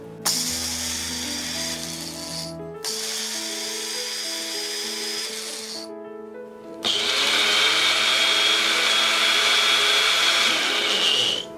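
A blender runs in three loud bursts separated by brief pauses, blending jal jeera ingredients with sugar, its motor pitch shifting slightly between pulses, with no talking.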